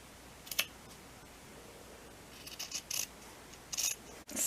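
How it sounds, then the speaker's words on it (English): Scissors cutting off the bottom of a t-shirt, a few soft snips and rustling fabric at low level, scattered short bursts with quiet gaps between them. "So I'm going to cut off the bottom."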